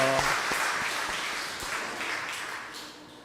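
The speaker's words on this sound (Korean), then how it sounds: "우리 박수로 하나님께 영광 돌리겠습니다." Sunday worship congregation claps together to give glory to God, a steady, moderately loud round of applause that slowly tapers, with faint sounds of the room beneath.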